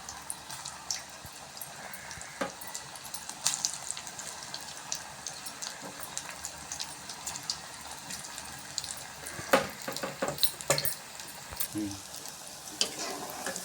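Cauliflower bajji fritters frying in hot oil, a continuous crackling sizzle with scattered pops and clinks, no talking.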